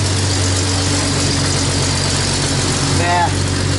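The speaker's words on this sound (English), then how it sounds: "Give it a rev." A car engine fitted with a replacement exhaust system runs loud and steady, close by, with a brief rise in pitch near the end like a short rev.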